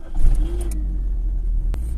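A car engine cranking via a keyless start-stop button, a close low steady churning rumble that holds for about two seconds with a brief click near the end.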